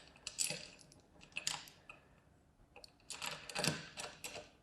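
Metal bolts wiggled into place on a CycloShine hinge during assembly, several close, faint metallic rattles and clinks in short clusters.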